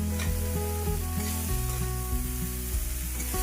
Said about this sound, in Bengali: সিমইটা আমার হালকা ভাজা হতেই আমি গ্রেট করা গাজরগুলোকে দিয়ে নেব। দিয়ে একসাথে এটাকে আবার একটু ভেজে নেব।